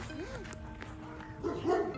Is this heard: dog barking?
yes